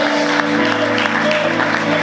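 A church congregation claps together during a Sunday morning service, a dense, loud and continuous wash of applause with a voice faintly underneath.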